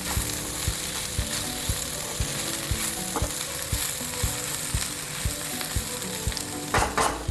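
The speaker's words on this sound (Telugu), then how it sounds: "ఇలాగా దొండకాయలు కొబ్బరి పేస్ట్ వేసాం కదా, మొత్తం కలిసేలాగా కలుపుకుందాం" Ivy gourd tossed with coconut paste in a frying pan gives a loud, continuous sizzle over an even rhythm of spatula scrapes and clicks against the pan, heard close with no voices.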